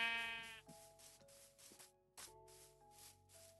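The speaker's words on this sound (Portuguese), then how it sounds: "Sai, pobre ovelha." Sheep bleat several times in a row, close and clear against a quiet background.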